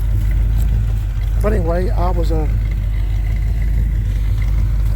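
A 1978 Chevy C10 truck engine idling after warming up, a steady loud low rumble throughout, with someone speaking briefly over it.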